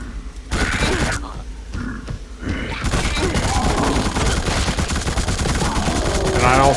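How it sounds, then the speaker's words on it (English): Rapid machine gun fire in the horror shooter The Suffering, a few early bursts giving way to a sustained rattling stream of shots that stays loud and dense to the end. "I like using the machine gun."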